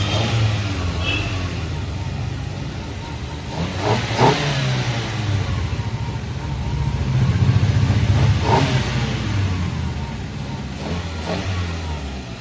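A Maruti WagonR fitted with a performance air filter revs repeatedly, its engine rising in several loud, close surges over a steady idle, with a brief voice in the background.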